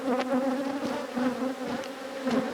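Honey bees hum in a steady, dense drone around an open hive, close and continuous, with a few individual insects whirring past near the ear.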